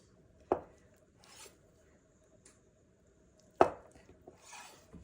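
A knife cuts a tomato and mozzarella into slices on a cutting board, two sharp, distinct chops about three seconds apart with soft rubbing in between, close and quiet.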